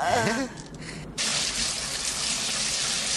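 Shower running, with a short voice at the start, then a pause and a steady, close, full spray of water pouring continuously.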